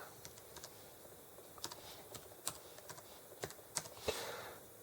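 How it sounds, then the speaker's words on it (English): Keys click irregularly on a computer keyboard as someone types with one hand during a CentOS server setup. The taps are scattered and faint over a quiet background hiss. "So I'm typing with one hand, which isn't too fun here."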